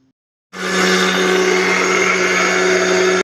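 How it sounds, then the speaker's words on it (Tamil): An electric mixer grinder jar blends garlic, ginger, green chilies, coriander and mint, starting abruptly and running as a loud, steady whirring roar close by for about three seconds. "இப்போது இந்த ஜாரில் பூண்டு இஞ்சி பச்சை மிளகா அப்புறம் வந்து கொத்தமல்லி அப்புறம் புதினா இது எல்லாமே போட்டு இப்போது நல்லா அரைக்க போகிறோம்"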